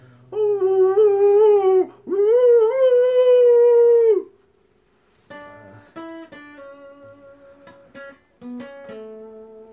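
Several dogs howl in long rising and wavering tones, two sustained bursts close together, followed by shorter yips and broken howls; no talk over them.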